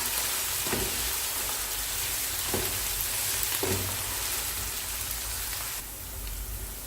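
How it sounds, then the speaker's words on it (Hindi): Ginger garlic paste sizzles steadily in hot oil in a home kitchen for chicken biryani, a dense, loud, continuous hiss broken by a few soft stirring knocks, fading slightly near the end. "हम इसमें शामिल करेंगे अदरक लहसुन का पेस्ट, और इसको भी जो है साथ ब्राउन कर लेंगे"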